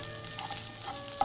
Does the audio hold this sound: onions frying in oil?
yes